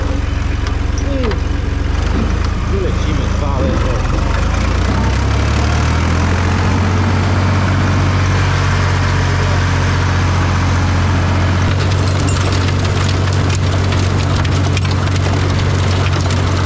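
Air-cooled Renault tractor engine starting and running steadily in an orchard, a loud continuous low rumble that settles into a steady idle, with someone talking over it.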